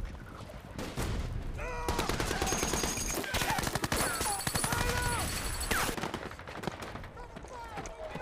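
Intense battle gunfire from the Iwo Jima episode of The Pacific: rapid machine-gun bursts and crackling rifle volleys, loud and dense, with shouted voices and music mixed in.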